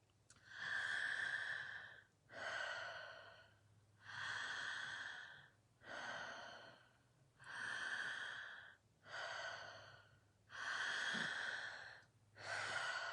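A person breathes deeply and steadily during a breathing exercise, eight long, loud, close inhale-exhale cycles in an even rhythm with no talking.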